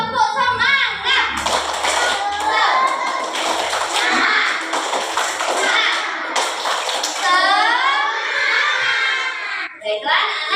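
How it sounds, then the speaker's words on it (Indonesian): Children in a classroom performing a rhythmic spirit clap (tepuk semangat), a patterned run of claps mixed with their chanting voices, close and lively, with a teacher's voice also present. "Kita tepuk semangat."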